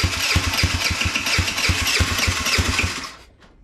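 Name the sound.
custom-built motorcycle engine first start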